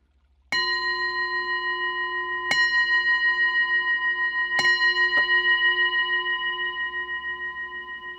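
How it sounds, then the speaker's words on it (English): A bell is struck four times over a microphone to open a virtual hosting space, each strike clear and ringing with a long sustained tone that carries on under the later strikes. "now we've sounded the bell"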